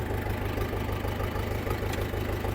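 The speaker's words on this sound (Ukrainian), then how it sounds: "зніму звук роботи двигуна. Рівнесенько працює цей тракторець" A Kentavr 404 SD small tractor's engine idles close by with a smooth, steady, even low throb. It runs alone, with no voices.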